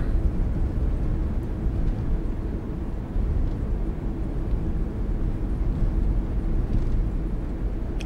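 Steady low rumble of airport ambience in the Tourist Bus Simulator game, with aircraft engines droning continuously at a moderate level and no voices over it.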